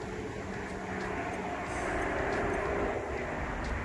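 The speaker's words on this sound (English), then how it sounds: "Yeah, wind blowing." Wind blowing outdoors through a garden on a fall day, a steady broadband rushing roar that swells slightly midway, close to the microphone and heard alone.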